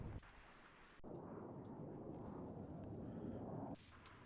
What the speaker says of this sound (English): I hear the explosion.